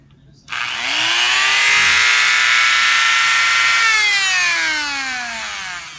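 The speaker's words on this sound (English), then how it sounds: "trying to Dremel for like you know, 2 hours to 3 hours of dremeling" A Dremel rotary tool carving a custom figure whines loudly at close range for about five seconds, its high buzzing pitch wavering slightly before easing off at the end.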